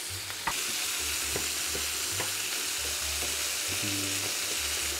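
Onions frying in a pan: a steady, loud, dense sizzle throughout, with a sharp clink near the start and faint stirring scrapes over a low background hum.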